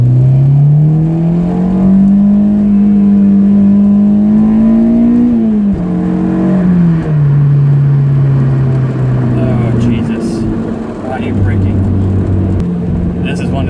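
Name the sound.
Honda S2000 engine accelerating while driving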